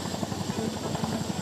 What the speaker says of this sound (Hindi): ये नाइट ऑपरेशन की इंडियन एयरफोर्स के चिनूक हेलीकॉप्टर्स